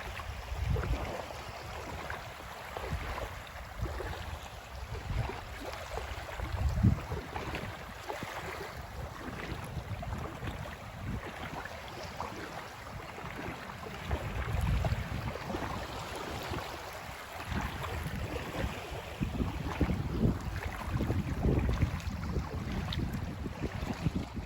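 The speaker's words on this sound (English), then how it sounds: "I'm going to give you a little beach time." Steady wind buffeting and rolling surf on a quiet beach in Southwest Florida, a continuous broad rush with gusty swells throughout and no voices.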